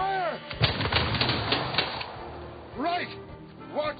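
A musket volley in a Napoleonic-era battle scene, sharp bursts of gunfire mixed with loud shouted commands and crowd noise, gunshots closely layered under the yelling.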